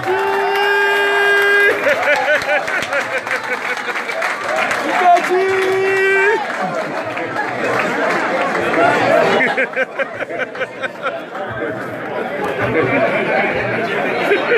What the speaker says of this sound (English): Can you clap for her?